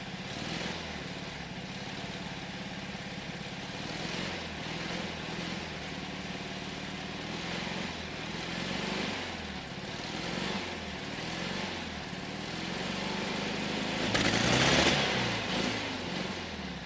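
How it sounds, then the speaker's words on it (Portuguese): A Volkswagen 1600 rear engine runs steadily at idle, a continuous mid-pitched air-cooled rumble heard close, with a brief swell in intensity near the end. "Aí ele tem o ronco inconfundível do Volkswagen"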